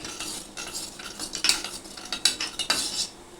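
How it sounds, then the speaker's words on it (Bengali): A spoon stirs red chili and turmeric into a paste in a small bowl for a Bengali basa fish tel jhal, with quick repeated metallic scrapes and clinks in a busy irregular rhythm, close and fairly soft. "এটাকে দিয়ে আমি একটু ভালো করে গুলে রেখে দেবো"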